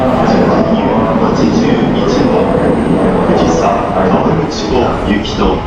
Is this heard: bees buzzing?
no